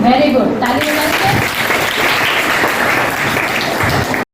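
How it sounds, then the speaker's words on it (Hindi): Schoolchildren in a village classroom applaud together, a dense continuous clapping lasting a few seconds and cutting off abruptly at the end, with a voice speaking briefly at the start. "Very good, Tali बजाइए।"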